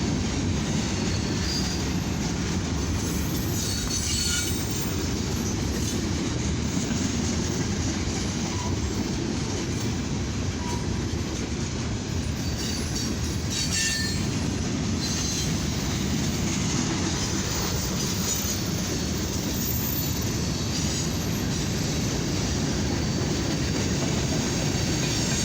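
An eastbound CFE mixed freight and steel train rolls steadily past on the main track, a continuous close rumble of railcars and wheels with faint squeals and rhythmic clatter throughout, no talk.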